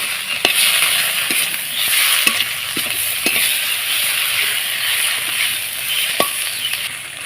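Cabbage fries in a pan with turmeric, ginger paste and cumin paste, giving a steady, close sizzle broken by occasional scrapes and clinks of stirring.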